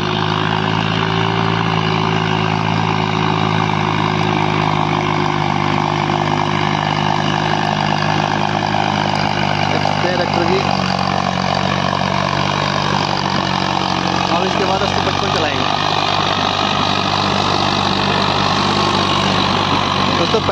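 A heavy tractor pulling a harrow drones loud and close, its engine laboring continuously under load with a deep, steady rumble and no breaks.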